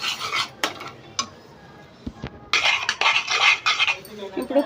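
A spoon scraping and clinking against a pot while peanut and jaggery syrup is stirred off the heat for peanut laddu, irregular metallic scrapes and knocks, close and fairly loud, with a pause in the middle.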